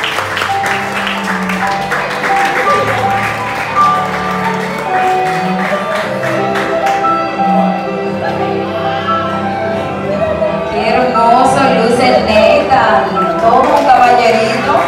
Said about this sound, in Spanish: Yo quiero un aplauso bien fuerte para Nathan.